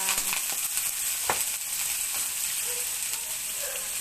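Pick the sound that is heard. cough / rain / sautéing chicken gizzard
sautéing chicken gizzard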